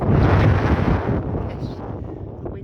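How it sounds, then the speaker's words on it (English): Outdoor wind gusts batter an unshielded microphone on a mountain hike, a loud rumbling buffet that fades over about three seconds. "the wind just gusted and I've not got my mic on"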